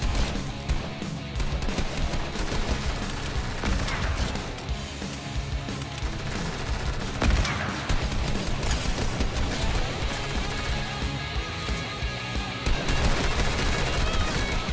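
Fortnite match with dense rapid gunfire, sustained machine-gun bursts and scattered louder shots with crashes, continuous and loud throughout.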